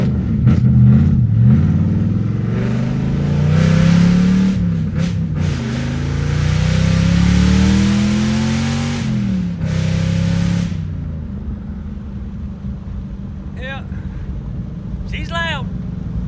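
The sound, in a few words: Fox body Mustang engine accelerating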